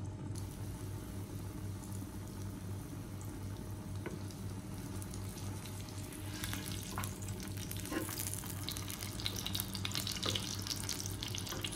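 Shahi velvet lamb kebabs fry in a pan with a steady, moderately loud sizzle and faint crackles. A low hum runs beneath, and a few sharper spatters come near the end.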